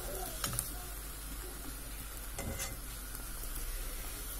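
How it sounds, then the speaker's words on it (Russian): Blini made from kefir batter fry in a buttered pan, a steady low sizzle running throughout with a few soft clicks and stirring scrapes near the start and middle. "блины печем, жарим обычным способом."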